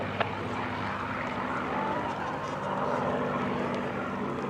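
A propeller airplane takes off from runway 18, its steady engine drone holding at a constant moderate level for several seconds with no voices.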